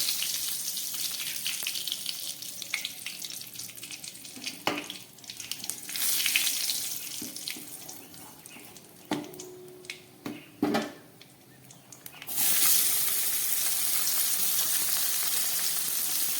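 Cumin seeds, a dried red chili and bay leaves sizzle in hot oil in a home kitchen, a steady crackle with a few sharp pops, then the frying swells louder near the end.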